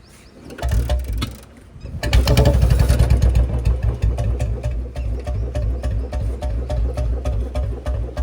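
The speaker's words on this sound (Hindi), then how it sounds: "अभी सबसे पहले बुलेट को करते हैं स्टार्ट।" A Royal Enfield Bullet motorcycle cranks and fires up, then settles into a loud, steady idle with its even, thumping beat close by.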